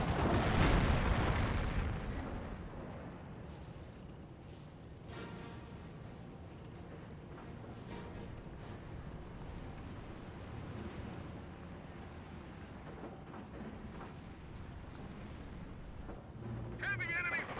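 A heavy artillery blast opens a rumbling battle in the Company of Heroes video game, then distant booms and gunfire roll on at a lower level while a voice speaks over the combat.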